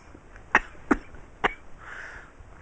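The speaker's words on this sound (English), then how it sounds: "Sorry, I'm starting to cough again." Three sharp coughs close by, spaced unevenly over a second, followed by a soft exhale in a quiet room.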